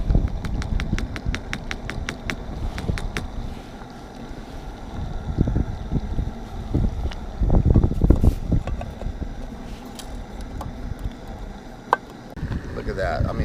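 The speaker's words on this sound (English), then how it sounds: "And it's been breezy the whole time." Breezy outdoor wind gusts around an MSR Windburner group stove with a 2.5 liter pot while beef stew cooks, a steady rushing roar buffeting the microphone, swelling louder midway, with scattered clicks and clatter.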